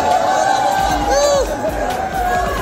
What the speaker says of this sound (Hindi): और हम इस भीड़ के हिस्सा हैं, बहुत जोरदार भीड़ है